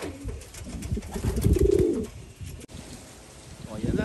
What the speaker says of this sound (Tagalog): Unang ibon natin.